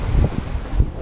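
Wind gusts across a sailboat racing at sea in a transatlantic race, a rough, low buffeting rumble that swells and fades in irregular bursts close to the microphone, with no voices.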